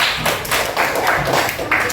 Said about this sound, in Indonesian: Berikan tepuk tangan pada Pak ya.